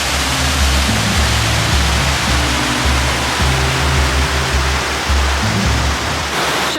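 Rushing river water near Multnomah Falls in Oregon, a steady, loud broadband roar close by, continuous throughout with a low rumble underneath.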